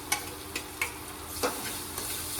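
Onion and tomato frying in oil, heard as a quiet, continuous sizzle broken by several sharp, close clinks and scrapes of stirring at irregular intervals.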